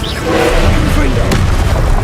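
Confringo explodes as a heavy, close boom in Hogwarts Legacy combat, then a sustained rumbling roar with a sharp crack partway through, and faint vocal sounds mixed beneath.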